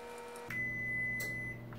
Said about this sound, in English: that's my oven that is ready at 350 degrees Fahrenheit